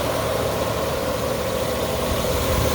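A very original 1957 Chevrolet 210 with a straight six engine and rebuilt carburetor idles steadily, a close, even low rumble that holds unchanged throughout with no talk.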